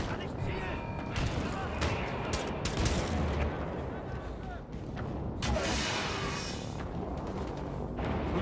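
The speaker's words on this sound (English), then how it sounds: "Who's shooting? Where?" A dense, continuous fusillade of gunshots and explosions in Wolfenstein II: The New Colossus plays loudly throughout, with a voice speaking over the battle.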